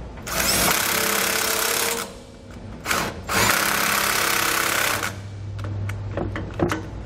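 A power tool runs in two long bursts, tightening the bolts of a Roadmaster rear anti-sway bar on a 2015 Ford F-53, followed by scattered metallic clicks and knocks close by.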